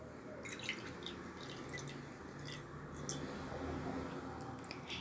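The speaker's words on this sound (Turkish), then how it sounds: "Yarım çay bardağı süt ekliyorum." Milk poured into a mixing bowl holding three eggs, a soft steady liquid trickle with faint drip-like splashes, close and quiet, running throughout with no talk.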